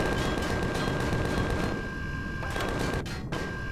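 Spaceship guns fire in the video game Empyrion Galactic Survival, a loud, continuous barrage of rapid shots that thins briefly near the end.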